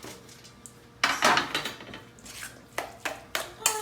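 Spoon clatters and scrapes against a dish as cauliflower casserole vegetables are stirred together, a few sharp knocks spaced out over quiet pauses, close and fairly soft.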